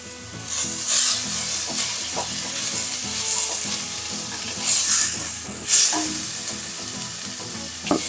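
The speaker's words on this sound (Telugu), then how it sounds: "బాగా పచ్చివాసన పోయేంత వరకు వేయించుకోవాలి" Mutton pulao ingredients, including a fresh homemade paste, fry in a hot pan with a steady close sizzle, broken by several scraping stirs of a spoon and one louder hissing burst, with no talking.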